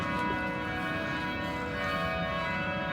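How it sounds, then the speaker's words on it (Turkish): Church bells ringing continuously in Brussels, with overlapping resonant tones, fairly distant and steady. "Çanlar kimin için çalıyor?"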